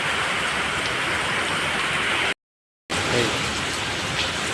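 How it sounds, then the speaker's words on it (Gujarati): Heavy rain in Morbi falls in a continuous loud hiss, broken once by a brief moment of silence before the downpour resumes. "જો સ્પીડ જો વરસાદની તમે"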